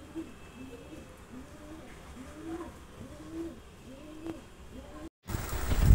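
Fancy pigeons kept for a lot sale coo again and again in soft, low, rounded calls close by. The cooing ends in a sudden loud burst of handling noise.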